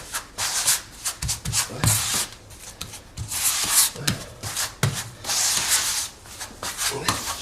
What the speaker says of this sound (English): Just let the squeegee do the work, backwards and forwards like that.